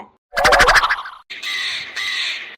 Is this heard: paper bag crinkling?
no